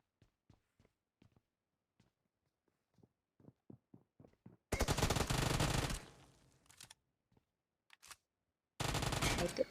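Gunfire in a PUBG Mobile fight: two loud, sustained bursts of automatic fire, near and dense, separated by scattered single shots and soft taps, with no talk.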